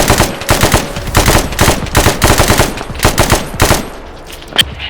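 Automatic machine gun fire from a first-person military shooter fills the air in loud, close bursts, rapid volleys separated by short pauses, ending with a lone sharper shot.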